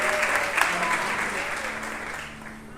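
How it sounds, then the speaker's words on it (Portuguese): Worshippers in a church service applaud together, a dense steady clapping that gradually eases over a few seconds, with faint tonal music or voices beneath. "aplauda Ele"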